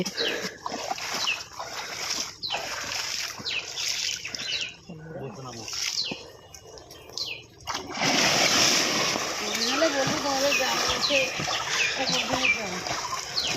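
People wade and swim into open water, raising loud, continuous splashing that builds to a sustained churn, with voices talking and calling throughout and occasional bird or dog sounds in the background.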